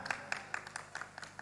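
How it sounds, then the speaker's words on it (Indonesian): A small audience at a youth catechesis gathering claps quietly, a short run of distinct, evenly spaced hand claps in a room. "Tepuk tangan."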